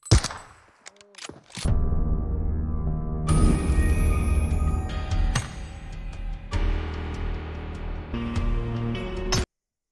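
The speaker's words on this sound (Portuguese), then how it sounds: "Passou um tiro." Gunfire during a live stream: several sharp, loud shots crack out in quick succession, each snapping off against a busy background of noise, with a voice briefly present.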